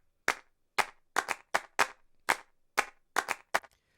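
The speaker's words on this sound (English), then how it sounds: "I have these claps here. I'm gonna go ahead and play that for you." Sampled claps programmed in a Maschine beat snap out in a crisp, punchy pattern of about a dozen hits, some in quick doubles, dry and up front with no voices.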